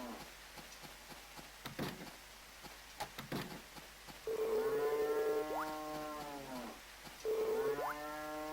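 Cows in the Harvest Moon DS farming game give two loud, drawn-out synthesized moos with rising pitch, following soft scattered clicks and taps of gameplay.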